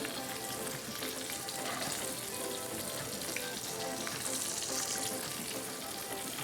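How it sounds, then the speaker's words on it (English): Steady, dense sizzling of flour-coated chicken frying in hot oil, crackling continuously up close with no talking. "We got a sizzling sound going on there."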